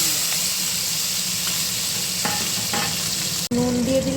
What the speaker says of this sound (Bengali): ফোড়ন দিয়ে দিচ্ছি জিরে, তেজপাতা, একটা শুকনো লঙ্কা।